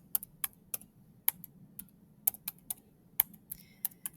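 Fingers typing on a computer keyboard, irregular crisp key clicks in short bursts, close and fairly quiet over a low background hum.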